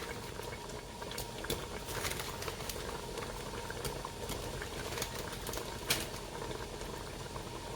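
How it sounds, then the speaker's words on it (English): A pot of liquid with cinnamon sticks, cooking for candied yams, at a steady boil: continuous bubbling and fizzing at a moderate level, with occasional louder pops and no talking. "It's up to a boil as well."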